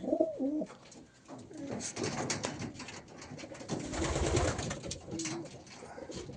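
Male racing pigeons, a dozen in a loft, coo in low, throaty phrases close by, with rustling, shuffling and wing movement in the background.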